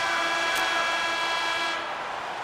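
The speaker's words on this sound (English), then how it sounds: "And there's the horn." The end-of-period horn sounds in the NHL 23 hockey video game as a loud, sustained blare held for nearly two seconds, then fades into the arena crowd noise.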